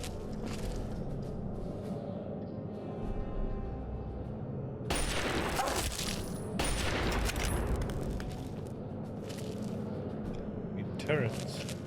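Automated turrets firing in Fallout 3, heavy bursts of rapid gunfire erupting loud and close midway through after quieter game ambience, repeating in a second barrage and a sharp burst near the end.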